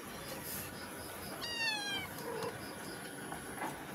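Cat meowing indoors at a home, one drawn-out, rising-and-falling meow heard at moderate distance over steady background hiss, with no talking.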